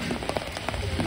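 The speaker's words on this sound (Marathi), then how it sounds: "आपला रात्रभर इतका पाऊस पडतोय" Heavy overnight rain falls steadily during a flood near the Patalganga river in Apte village, Raigad, a dense close patter of drops drumming on a surface with no voices.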